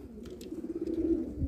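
Pigeons at a Lucknow pigeon sale, including Jeere, Gaare, Ilhabadi, Kaldume and Malihabadi birds, give soft, low, continuous cooing close by, with a few faint chirps above it.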